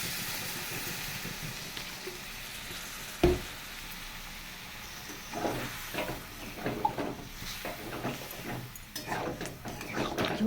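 Water poured into a frying soya chunk curry sets off a hissing sizzle, a sharp splash followed by bubbling crackle and stirring scrapes, fairly quiet and close.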